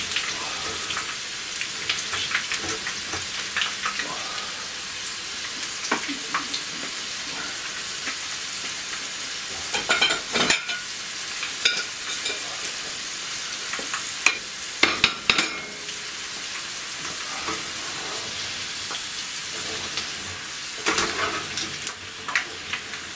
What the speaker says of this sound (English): Now you need to fry that much, like golden brown like that